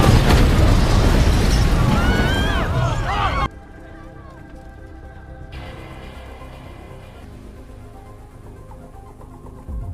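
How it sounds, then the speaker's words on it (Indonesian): A house blows up in a film scene, with a loud, dense blast and roaring debris filling the first three and a half seconds, then cutting to a much quieter low rumble with soft background sound. "dan tak lama rumah pun meledak."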